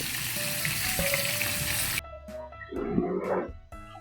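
Mixed vegetables with corn and taro sizzle loudly in a pan, a steady frying hiss that cuts off abruptly halfway, followed by quieter clattering stirs and intermittent sizzles.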